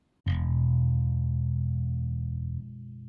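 A single low note on an Ibanez K5 bass guitar is plucked and left to ring, sustaining strongly and slowly fading over a few seconds without being muted.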